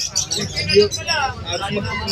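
A crowd of birds brought to a market, chirping and cooing densely, with people talking over and around them.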